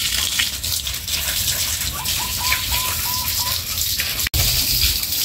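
Replanted palm tree soil mixed with goat manure being watered, a loud continuous gushing splash of water throughout, with faint bird chirps in the background.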